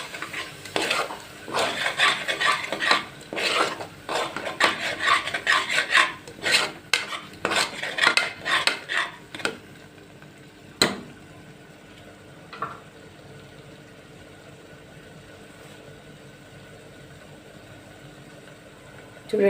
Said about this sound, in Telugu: ఇందులో కొద్దిగా కసూరి మేతి వేసి కాసేపు అలా వేయించుకోండి